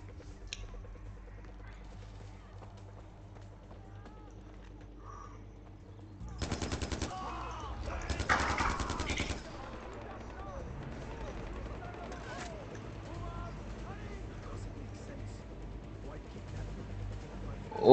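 Big gun firing in the video game Far Cry 4, heard as two loud rapid-fire bursts of a second or so each, standing out from a quieter game soundscape.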